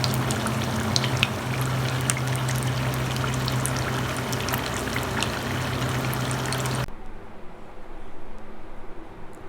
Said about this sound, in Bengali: এইভাবেই বাকি পিঠাগুলো আমি ভেজে নিব।